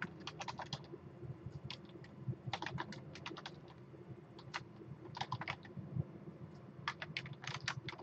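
Quick bursts of keystrokes on a computer keyboard while entering text for a digital comic strip, clicking in uneven clusters with short pauses between, close and moderately loud with no talking.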